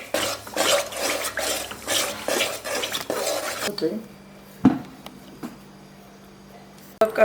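Jaggery syrup for sweet raw mango pickle is heated and stirred in a pan, giving scraping, clinking utensil sounds and soft sizzling that are busy for several seconds, then quieter with a single sharp knock and a final clatter.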